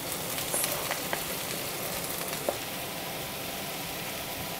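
Sliced onions and peppers sauté in hot oil for a fish and rice dish, a loud continuous sizzle broken by a few light spoon taps against the pan.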